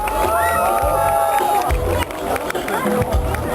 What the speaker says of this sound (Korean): 여러분 박수로 맞으세요